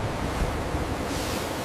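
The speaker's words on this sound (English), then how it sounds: "The ship accelerating rapidly under sail, bow cutting through the waves with spray flying." Ocean waves and spray break steadily against the bow of a Viking clinker-built ship under sail, a continuous rushing wash with no distinct breaks, close and moderately loud, with wind noise in the mix.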